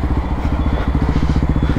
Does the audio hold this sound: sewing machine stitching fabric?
no